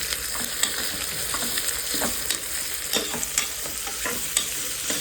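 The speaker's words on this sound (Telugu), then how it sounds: "ఆనియన్తో పాటు క్యాబేజ్ కూడా వేసుకుందాము. సో ఈ క్యాబేజ్ కూడా ఫ్రై చేసేసుకుందాం." Onion and cabbage fry in a pan with a steady, close sizzle, broken by scrapes and clatters as the vegetables are stirred, and no voices.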